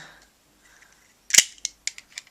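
The key of a Brachio Morpher toy gives a sharp mechanical click followed by a rapid series of smaller clicks and snaps, quiet and close, like a plastic toy mechanism being triggered.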